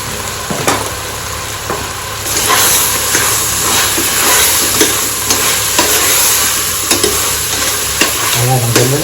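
Bottle squash and pork sautéing in oil for Filipino dinuguan, a loud close sizzle with repeated scraping stirs and clinks of a utensil against the pan.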